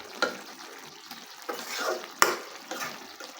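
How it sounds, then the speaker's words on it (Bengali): A spoon stirs mixed vegetable curry simmering in a pan in a village kitchen, scraping in repeated strokes over a steady close sizzle, with sharp clacks against the pan. "আর একটু নাড়াচাড়া করে সিদ্ধ করে নেব"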